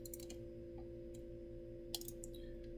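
Calculator buttons are pressed while an amortized loan payment is worked out, soft scattered clicks in small clusters over a quiet electrical hum, with a slightly sharper tap near the end.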